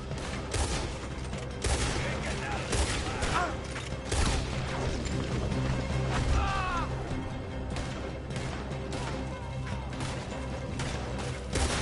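Dense gunfire in a video game firefight, a near-continuous barrage of overlapping shots and crashes over about twelve seconds, with voices shouting through it.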